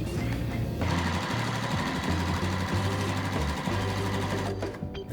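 A sewing machine runs steadily, stitching a sashing strip onto a Halloween quilt, its loud motor hum continuing almost without break for about five seconds before easing off at the very end.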